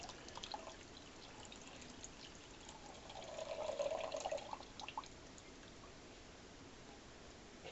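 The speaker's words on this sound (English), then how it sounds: "Pour the broth in" Broth pours faintly from a punctured carton into a soup pot, a soft splashing trickle that swells briefly in the middle and then fades to quiet dripping, heard close.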